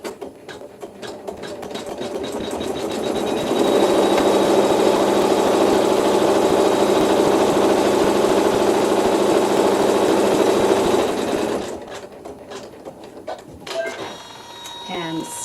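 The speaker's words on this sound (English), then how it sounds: "I'm going to lay my fabric 1 right side down with the raw edges even and stitch the seam." A sewing machine stitches a fabric seam with a steady, close mechanical whir that holds for about eleven seconds and then stops, followed by a few handling clicks.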